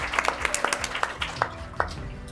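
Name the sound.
audience applause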